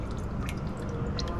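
Water condensate mixed with oil dripping and trickling from a drained pneumatic system tank on a Massey Ferguson 6499 tractor, a steady close wet patter with a few sharper drips, no talk.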